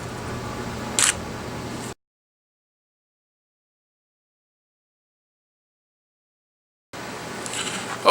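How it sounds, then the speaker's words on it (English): A camera shutter fires once at 1/500th of a second, a single crisp close click, followed by a long stretch of silence, then quiet room noise and another faint mechanical sound. "I'm going to take a picture of that at 1/500th of a second"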